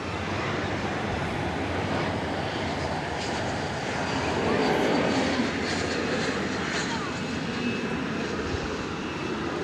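A 1986 Beech 1900C twin-engine propeller plane landing at Dallas–Fort Worth at night after a flight from Lubbock, its engines droning loud and steady throughout, swelling slightly midway.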